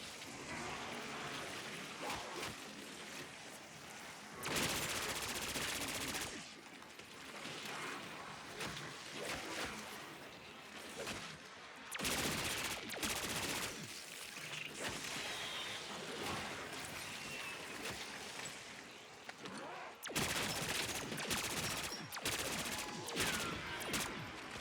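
AK-74 rifle fire in Black Ops 6 Zombies: sustained loud automatic bursts fill most of the stretch, broken by brief pauses, layered with dense game effects and crashing impacts.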